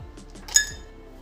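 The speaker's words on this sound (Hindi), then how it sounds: "और थोड़ी सी हम आइस क्यूब डाल देते हैं।" Ice cubes dropped into a glass of Bihari sattu drink made with lemon juice and fresh coriander, giving one sharp clink against the glass amid quiet faint knocks, no talking.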